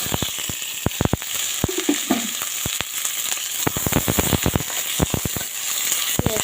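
Chopped onions frying in hot oil with nigella seeds, a loud steady sizzle dotted with many sharp crackles and pops, close up and without speech.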